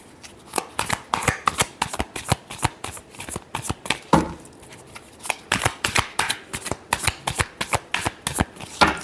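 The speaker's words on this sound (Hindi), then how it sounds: "Last shuffle." Tarot cards are shuffled by hand in quick irregular bursts of crisp riffling and slapping, close and clear with no talking over them.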